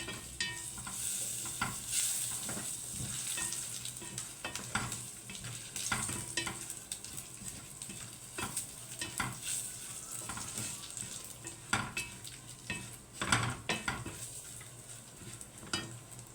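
Onions fry quietly in a pot while being stirred, a soft steady sizzle punctuated by regular scrapes and clinks of the spoon.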